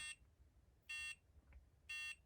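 Alarm beeping from a Nintendo Game & Watch Parachute widescreen handheld (PR-21): three short, shrill electronic buzzes spaced about a second apart, faint and alone.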